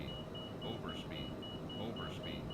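Overspeed warning in a Microsoft Flight Simulator cockpit, a repeating electronic tone pulsing a few times over a steady engine and airflow drone.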